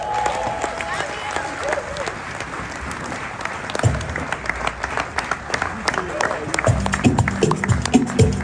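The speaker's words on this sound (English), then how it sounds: "Can we put a round of applause for her, please?" A retreat audience of cell leaders claps through a round of applause, the clapping swelling and growing denser midway, with a voice speaking and some music underneath.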